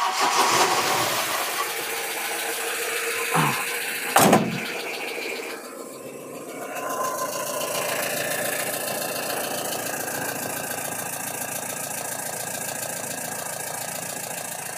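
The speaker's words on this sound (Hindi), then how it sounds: "तो एक बार वापस आपको मैं सेल्फ मार के दिखाता हूँ।" A Mahindra Bolero MaxiTruck with a BS6 engine and a starting fault cranks on the self-starter with a brief whirring crank and catch, then settles into a steady, moderately loud diesel idle that runs on for many seconds.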